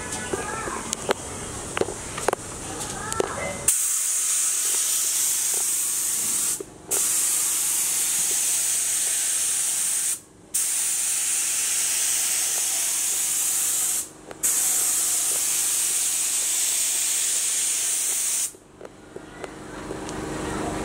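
A paint spray gun hisses loudly and steadily as it coats an exterior wall for a royal play bubbles design, in long bursts broken by four brief pauses, after a short stretch of talk at the start.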